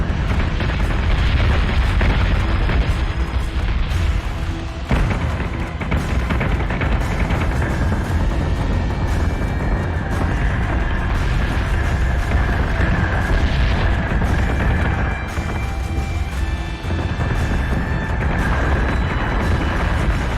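Starship weapons fire and explosions in the space battle game Battlestar Galactica Deadlock: a loud, continuous barrage of booms, blasts and bursts stacking on one another for twenty seconds, with a few tonal hums threading through.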